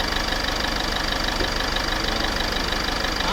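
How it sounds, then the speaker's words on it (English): A Ford Figo diesel engine idles steadily with an oil flush added, a constant low hum and faint mechanical knocking, unchanging throughout, with no voices. "Now we have started the engine, and then the engine is running for 5 minutes"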